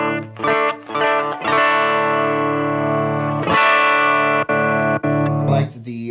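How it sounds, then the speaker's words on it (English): Electric guitar played through a Strymon Iridium amp modeler on its deluxe amp setting, sustained chords and notes ringing out with slight grit, a few brief gaps and muted stops between phrases. "I'm going to really quickly do a Iridium sound sample on the deluxe setting."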